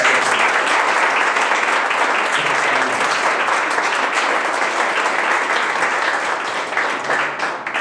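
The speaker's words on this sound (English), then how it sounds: "So, round of applause for all those." Sustained audience applause for entrepreneurship award nominees at a ceremony, a dense, even roar of many hands clapping that holds steady for several seconds before thinning slightly at the end.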